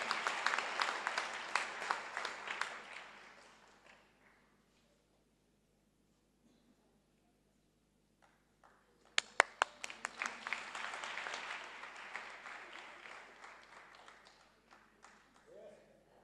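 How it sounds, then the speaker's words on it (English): An audience at a bicycle distribution event claps in two bursts separated by a few seconds of near silence, a light, fairly distant patter with some sharper individual claps. "Another applause, just to give him self-confidence."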